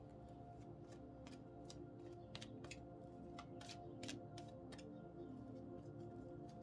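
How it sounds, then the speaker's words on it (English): Tarot cards are shuffled with a quick, irregular series of crisp riffling clicks and snaps over a constant low hum, fairly close and alone with no talking. "as I stop shuffling"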